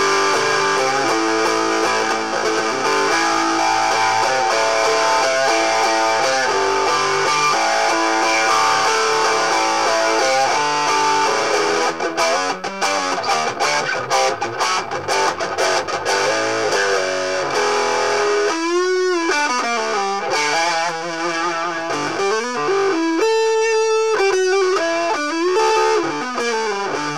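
A heavily distorted electric guitar through a GF-10 guitar amplifier plays sustained, buzzing chords, later shifting into wobbling, swooping bends with a harsh, fuzzy, wasp-like tone.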